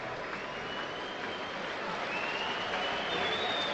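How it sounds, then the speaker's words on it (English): Football crowd at a Hibernian v Newcastle United pre-season friendly applauding a Newcastle player, a steady, fairly distant wash of clapping and crowd noise that swells slightly toward the end, with no talk. "John Joe Shelvey gets a tremendous reception from Newcastle's fans, and he reciprocates with applause."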